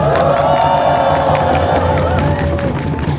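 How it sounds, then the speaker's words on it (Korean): Crowd at an evening candlelight rally in Sejong, a loud, continuous blend of cheering and clapping with shouts rising over steady background music. "여러분, 송재철 청년위원님께 박수 부탁드립니다"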